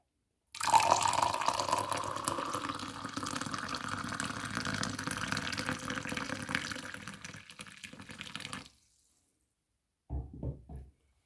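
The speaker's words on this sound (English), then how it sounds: "just pour your hot water over" Hot water pours steadily and close up over cayenne pepper in a cup for several seconds, the pitch slowly rising as the vessel fills, then stops; a few soft knocks follow.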